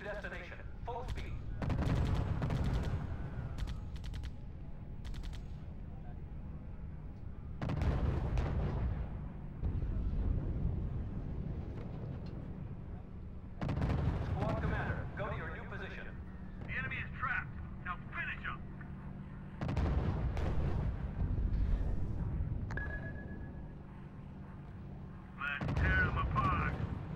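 Bursts of gunfire and booming artillery from the World War II strategy game R.U.S.E, heavy rumbling blasts and rattling volleys recurring in loud waves, with voices speaking over the battle.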